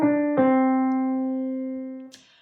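Piano phrase played with a swung lilt: a quick pair of notes, then a long sustained tone that slowly decays, heard solo and close.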